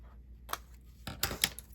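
Scissors snip through scrapbook paper, cutting small pieces off a brochure pocket, in a few quiet, crisp cuts close by with short pauses between them.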